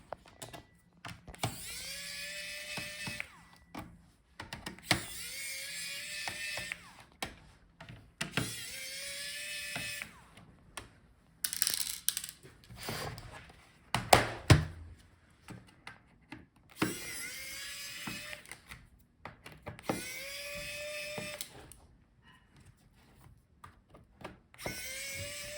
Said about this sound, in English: So start with bottom screws.